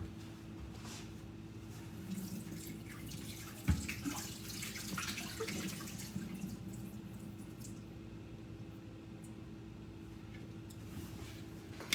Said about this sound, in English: Let's drain our shrimp.